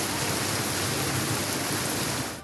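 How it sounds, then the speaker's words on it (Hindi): Heavy stormy monsoon rain pours down over the flooding city of Sialkot as a dense, steady, loud roar of water that continues unbroken without voices. "सियालकोट में तूफानी बारिश, शहर पानी पानी हो गया।"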